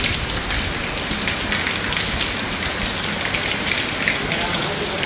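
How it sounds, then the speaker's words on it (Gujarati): Heavy rain pours down steadily, a dense, constant hiss of drops hitting surfaces, loud and unbroken throughout. "નામી વરસે છે અટાણે"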